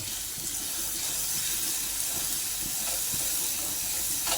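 Black sesame paste frying in hot oil for a sesame curry, a steady broadband sizzle and hiss that holds fairly even and close throughout, with no voices.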